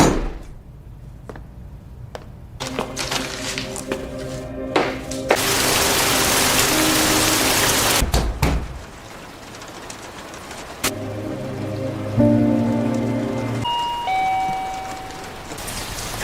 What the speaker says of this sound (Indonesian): Singkat cerita, malam pun diguyur hujan.